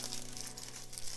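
Crinkling plastic as a small trash bag is pulled out of its packaging, a continuous close rustle with no talking.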